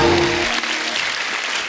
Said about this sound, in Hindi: आलिया के लिए जोरदार तालियां।